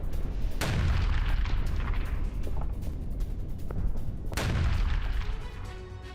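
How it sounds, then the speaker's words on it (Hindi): Bombing and artillery fire in Chasiv Yar: two heavy, deep booms about four seconds apart, each rolling into a long rumbling decay, heard from a distance. "रूस की बमबारी का वीडियो भी आया है सामने"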